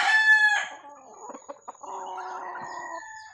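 A junglefowl rooster crows loudly once, close by, its high strained call trailing off into softer clucking and low throaty fowl sounds.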